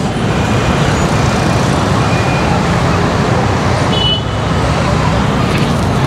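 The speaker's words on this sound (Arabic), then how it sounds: "شوف الترافيك من هون" Busy road traffic in Nepal, a dense continuous roar of cars, buses and trucks passing close by, with a brief horn toot partway through and no clear talk.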